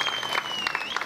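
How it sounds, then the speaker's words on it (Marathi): Applause for women performing traditional Mangalagaur games, a short, even burst of clapping with a faint whistle-like tone running through it. "हे टाळ्या होऊन जाऊ दे ना."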